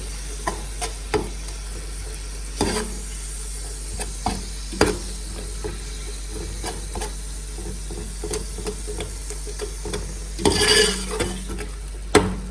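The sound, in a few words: garam masala being lightly roasted and stirred in pan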